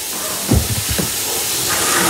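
Onions and peppers sizzle in olive oil in a pan while cooking chili, a steady close hiss with a few soft clunks near the start and no talking.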